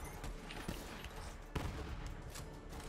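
Gunfire in the video game Borderlands 3, a dense fusillade of rapid shots and bursts heard at moderate distance under a constant noisy bed, with no talking.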